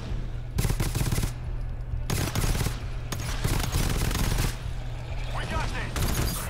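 Gunfire in GTFO comes in several loud bursts of rapid automatic shots separated by short pauses, close and harsh, with a low steady hum in the background and a voice briefly speaking between bursts.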